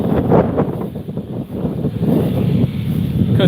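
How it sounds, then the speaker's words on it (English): Strong wind roars and buffets a microphone in a steady, heavy rush of low rumbling noise that surges and dips without letup. "It's getting crazy windy."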